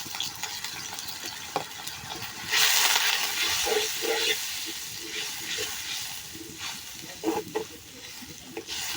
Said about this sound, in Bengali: মশলাগুলো ভালোভাবে কষিয়ে নিব।